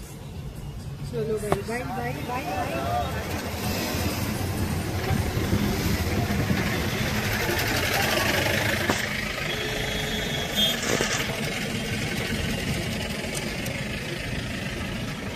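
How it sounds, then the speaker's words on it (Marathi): Slow-moving traffic jam with vehicle engines idling, a continuous mid-low engine drone and rumble throughout, with a horn-like tonal blip early on and occasional faint voices in the background. "ट्रॅफिक दाखवतो तुम्हाला"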